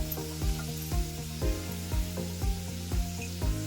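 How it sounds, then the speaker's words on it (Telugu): Sliced onions sizzle steadily in a hot pan while a spatula stirs them at an even pace, giving soft regular knocks about twice a second over the constant hiss. "ఆనియన్స్ని మధ్య మధ్యలో కలుపుకుంటూ దోరగా ఫ్రై చేసుకోవాలి"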